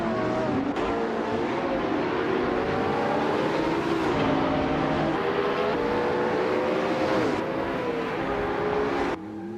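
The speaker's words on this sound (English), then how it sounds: "Everlasting Apex is driving a 2014 Koenigsegg 1-1" Koenigsegg hypercars, including a 2014 One:1 and a 2020 Jesko, race in a video game with a loud, continuous engine roar whose pitch rises and falls through gear shifts, ending in an abrupt drop.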